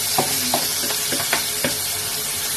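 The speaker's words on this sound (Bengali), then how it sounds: "আমটা দেওয়ার পর কন্টিনিউয়াসলি নাড়তে থাকতে হবে" Raw mango pieces frying in oil with spices for pickle, a continuous close sizzling hiss broken by several scraping stirs of a spoon in the pan.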